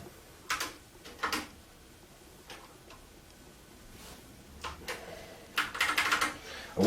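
Scattered key presses on the keyboard of a Hitachi S4000 control computer in a workshop, a few short bursts of clicking separated by quiet pauses, close and fairly soft, ending in a louder cluster.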